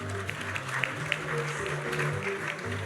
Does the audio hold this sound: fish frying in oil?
no